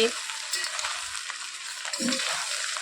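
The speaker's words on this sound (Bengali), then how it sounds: "এই যে ভাতটা সম্পূর্ণটা ঢেলে দিয়েছি এখন নেড়ে চেড়ে নিচ্ছি" Cooked rice being stirred with ghee in a hot pan, a soft continuous sizzle with faint scraping and shuffling of the spoon through the rice, close and fairly quiet.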